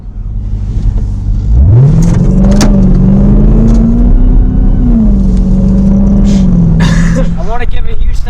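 A 2020 Jeep Trackhawk's supercharged engine is revved hard, rising into a loud sustained whining roar that holds steady and then eases off, with people talking over it.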